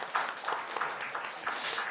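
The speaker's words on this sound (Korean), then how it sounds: "와, 박수 한번 주세요." Church congregation giving a brief round of applause during a Sunday service, moderately quiet clapping with a few distinct louder claps.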